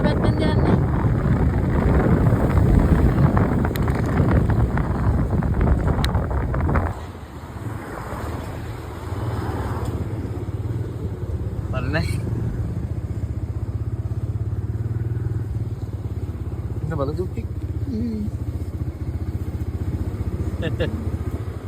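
A motorcycle rides through rain with a rider and passenger carrying a PartyBox speaker toward Malabe. Heavy wind buffeting and engine roar fill the first seven seconds, then settle into a steadier, quieter rush.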